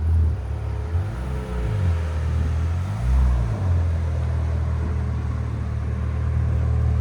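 Supercharged Audi SQ5 3.0L V6 with downpipes, X-pipe and 2.5-inch exhaust idling with a deep steady rumble, blipped twice to short rising revs before settling back, close by.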